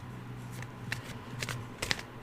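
Tarot cards being shuffled by hand, a series of soft papery riffles and flicks in irregular bursts, close and fairly quiet in a calm room.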